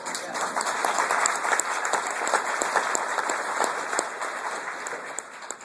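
An audience applauds a political speech on American energy policy, a dense, steady wash of clapping that holds at full strength for several seconds with no voices over it.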